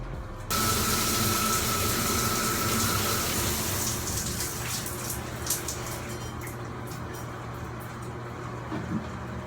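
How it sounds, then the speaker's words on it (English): Steady shower water pours continuously and close by while hair is being wetted, a dense unbroken hiss with faint splashes and no voices. "I'm gonna go jump in the shower real quick to wet my hair"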